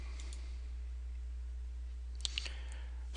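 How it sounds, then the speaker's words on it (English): A computer mouse clicks on a website's Login button: a couple of quick, faint clicks come near the end over a steady low hum. "and click Login."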